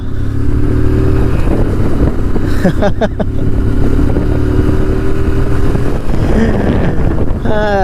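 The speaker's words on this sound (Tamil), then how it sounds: "அந்த சவுண்டு எக்ஸாஸ்டோட அந்த நோட்டுக்கே ஒரு தனி ஃபேன்ஸு." A TVS Apache 160 2V motorcycle riding on the road, its engine and exhaust drone loud and steady under heavy wind buffeting, with someone talking over it and a rising rev near the end.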